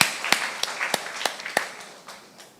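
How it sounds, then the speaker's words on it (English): Scattered applause from a conference audience, a handful of sparse, fairly faint claps spaced out over a couple of seconds and fading toward the end, with no speech. "Are we clapping or what?"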